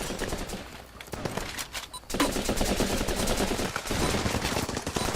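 Dense, rapid gunfire from the video game Running with Rifles crackles almost continuously, with automatic bursts and overlapping shots that pause briefly before resuming loud and close.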